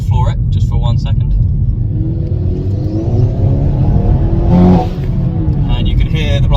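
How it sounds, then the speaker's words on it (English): A Hyundai i30N with a DCT gearbox and a stage 2 tune, rising from a steady engine drone to a hard acceleration that swells in pitch and loudness, then drops off with a short hiss from the blow-off valve. "And you can hear the blow-off valve working quite nicely there."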